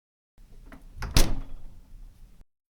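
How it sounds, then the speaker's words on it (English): A fridge door shuts with a single close, solid thunk, preceded by faint rustling and followed by quiet room noise. "I close the fridge door."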